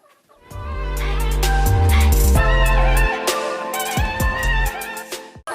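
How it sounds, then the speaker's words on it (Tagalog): Chickens on a poultry farm of about 150 egg-laying hens cluck and squawk loudly and close by, several birds calling over one another in a short burst. "Composed of 150 chickens and nangitlog sila araw-araw."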